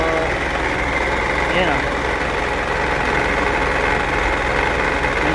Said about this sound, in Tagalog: Nandito sa loob ng alternator yung ingay. So, maaaring bearing.